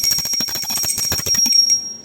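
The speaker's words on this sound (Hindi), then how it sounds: "घंटी बजा देंगे" A small brass hand bell rings rapidly and continuously during a Hindu Ekadashi puja, close and bright, its clapper striking in a fast steady rhythm for about a second and a half before the ringing tone fades out.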